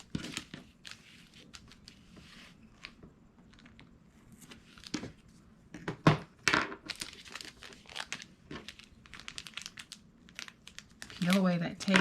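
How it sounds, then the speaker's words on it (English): Backing paper peeled off strips of craft tape while assembling an embellishment book, giving a series of close, crinkly tearing and crackling sounds between quieter stretches, with a louder burst of crumpling near the end. "Peel away that backer."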